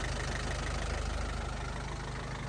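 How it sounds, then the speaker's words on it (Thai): A Nissan four-cylinder 100 hp engine idles on an old rice thresher, a steady low, loud drone with a fast, even pulsing throb, close up and continuous, with no talk over it. "ตัวนี้เป็นเครื่องสี่สูบนิสสันร้อยแรงนะครับ"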